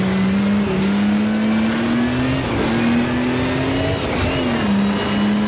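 A race car engine revs hard on a hill climb course at Sabran, a loud, sustained near-field drone with brief dips between gear changes and no talk.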